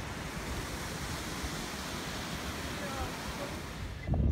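Wind blows steadily outdoors in a mountain village in Graubünden, Switzerland, a constant loud rushing noise that swells into a brief gust at the very end.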